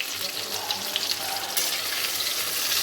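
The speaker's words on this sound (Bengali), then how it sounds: "আর এখন পটল ভাজা করছি" Pieces of pointed gourd sizzle steadily in hot oil, a continuous crackling hiss that swells slightly partway through, with faint background voices.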